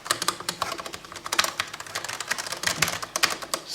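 Typing on a Gamdias Hermès P3 keyboard, heard up close: a quick, irregular stream of soft, fairly muted key clicks and taps, with no one speaking.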